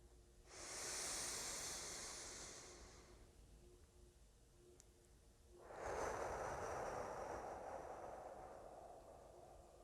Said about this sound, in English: when I make my breath work sound like the ocean, it's hypnotic